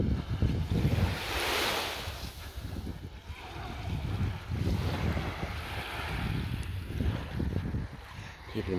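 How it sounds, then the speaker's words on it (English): Surf washing onto the beach at Kalamaki on Zante on a quiet morning, a steady broadband wash with rolling swells and wind buffeting the microphone throughout. "a little walk along the beach at Kalamaki"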